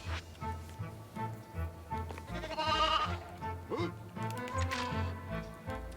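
Sheep bleats from the Toy Story 2 video game, heard as several short, fairly loud calls over busy game music and sound effects.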